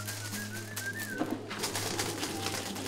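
Homing pigeons at a race release coo and call softly, fairly faint, over a steady low hum and background noise.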